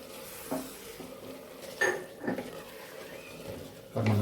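Greens stirred with tomato and onion in coconut oil in a pan, with a few scattered scrapes and clinks of the spoon against the metal over a low, steady background.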